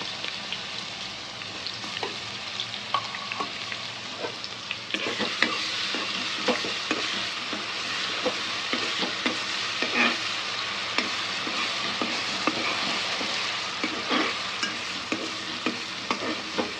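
Ginger garlic paste frying in oil for Andhra coconut rice with chicken curry, a steady close sizzle with repeated clinks and scrapes of a spoon stirring in the pan, with no talking.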